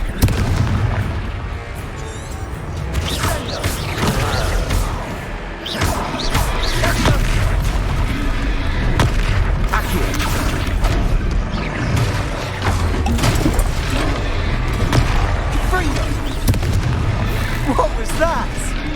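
The Confringo fire spell in the Hogwarts Legacy video game explodes in a string of loud, heavy booms and crashes through a hectic battle, with deep rumbles and impacts running almost without pause.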